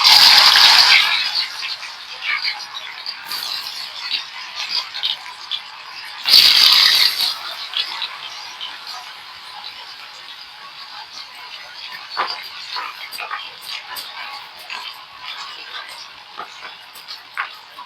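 Potato finger chips hit hot oil with two loud sizzling bursts a few seconds apart, then settle into a softer, steady crackle and bubbling as they fry.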